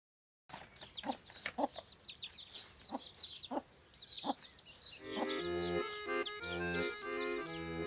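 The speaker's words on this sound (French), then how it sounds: "Je les gâte à mes poules." Farmyard hens cluck in short, irregular bursts close by, then break into a louder, more sustained run of calls toward the end.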